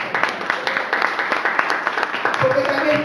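Congregation clapping for God at a Spanish-language church service, a steady patter of many hands with some voices mixed in, fairly close and continuous.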